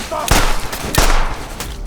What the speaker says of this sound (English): after several gunshots